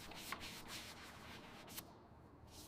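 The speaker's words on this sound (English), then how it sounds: "A sanding block glides over primed body panels of the 1961 Jaguar E-Type Series." A sanding block rubs over primed body panels of a 1961 Jaguar E-Type Series 1, giving faint, close, repeated scratchy strokes in an even rhythm.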